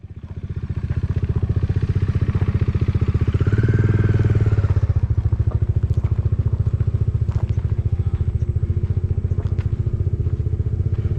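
A motorcycle engine runs steadily at close range while being moved off a ferry onto a jetty, with a continuous low throbbing idle and occasional clattering and knocking sounds over it.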